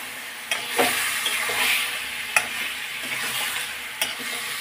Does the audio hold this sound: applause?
no